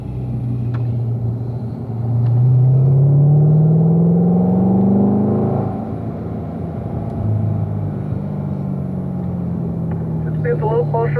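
A Corvette accelerates out of a corner on the Spring Mountain race track, its engine note climbing in a strong rising sweep, then easing back to a steady drone while someone talks over it.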